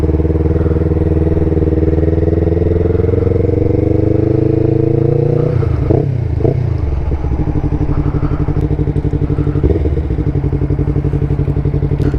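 A Yamaha R3 fitted with an M4 full exhaust idles with a loud, steady, close burble, blipped by a few quick throttle revs midway before settling back to idle; no talking.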